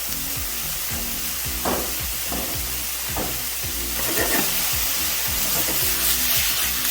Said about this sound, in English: We're gonna do one last stir, and then we're gonna take it off.